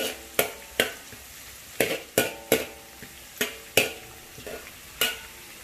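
Oyster sauce chicken is stirred in a frying pan with a steady rhythm of sharp scraping strokes, roughly two per second, each followed by a brief sizzle, close and fairly quiet.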